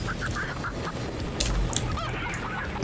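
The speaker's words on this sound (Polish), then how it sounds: "Czy ja tam widzę kurczaki?" Chickens in the video game Moving Out, a few close honking, clucking calls scattered over a steady game background.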